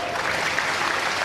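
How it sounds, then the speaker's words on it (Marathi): Loud, dense applause from an audience at a public event, a continuous wash of clapping with no break. "जोरदार टाळ्या"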